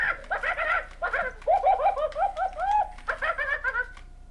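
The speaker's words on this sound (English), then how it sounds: "Pressing the various buttons on the remote puts Squawkers into little different gag modes" Squawkers McCaw robot parrot toy in gag mode, giving a run of close, clear electronic bird-like squawks, coos and clucks in quick bursts with short pauses between them, no talking.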